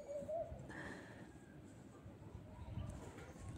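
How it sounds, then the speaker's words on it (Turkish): Adana turtle doves cooing outdoors: a few soft, low coos, faint and somewhat distant, over steady background noise. "Siz bu arada kumrularımızın sesini dinleyin."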